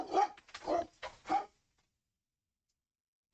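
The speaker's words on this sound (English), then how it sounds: "that puppy's tearing ass around behind me" A puppy indoors giving three or four short yips and whimpers in quick succession, fairly close, then quiet.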